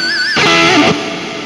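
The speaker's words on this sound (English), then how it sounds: "Got a really great distortion on the head." A Kramer Pacer Classic electric guitar through an amp head's distortion, a cab and reverb plays a brief bent note and then a thick, buzzing distorted chord that rings and fades.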